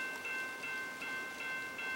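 An N scale model train runs along its layout track toward the yard, giving a steady, close, light mechanical whir and faint rail clatter throughout, with a constant high whine running underneath and no talking.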